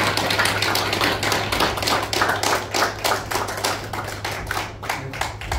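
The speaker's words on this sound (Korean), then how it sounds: "서인태 의장님을 뜨거운 박수로 단상으로 모시겠습니다" Audience applause at a reunification lecture workshop as the chairman is welcomed to the stage, many hands clapping in a steady, dense rhythm, loud and sustained over a low constant hum.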